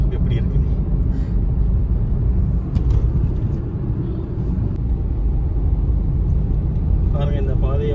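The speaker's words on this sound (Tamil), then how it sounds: "இப்போ வந்து நம்ம காரில் போய்கிட்டு இருக்கோம்." A manual car drives along a tree-lined road near Munnar, its engine and tyre noise forming a steady, close, low rumble from inside the cabin, with a voice briefly heard near the end.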